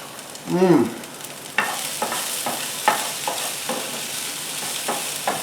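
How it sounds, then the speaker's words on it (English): Bacon crisping in a pan, a steady bright sizzle broken by a series of separate crackling pops, with a short voiced sound near the start. "Look at that crispy bacon."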